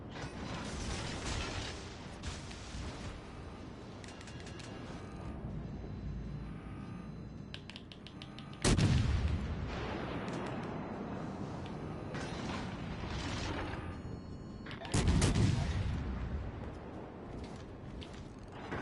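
Guns on a UK destroyer fire shells in World of Warships Legends: two sharp, loud salvo blasts stand apart, each trailing off into rumble, over a quieter bed of mechanical clanks and creaks.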